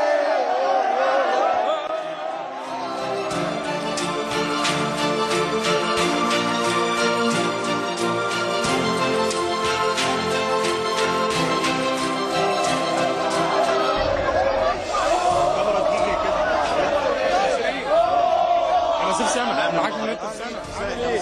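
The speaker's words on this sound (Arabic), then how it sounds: "يمكن لو تسمع صوت الجماهير ورايا" A large crowd of football fans mills outside Borg El Arab stadium near the gates, a dense continuous hubbub of chatter and voices, with someone talking loudly close by over the din.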